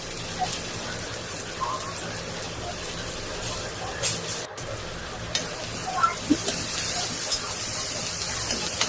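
Onion and ground spice paste fry for sambar, making a continuous rain-like crackle that steps up in places, while a voice talks over the cooking.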